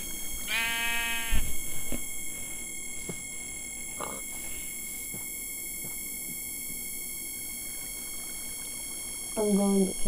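A sheep in Minecraft bleats twice, a loud harmonic bleat near the start and another near the end, with game sounds and a quiet stretch between.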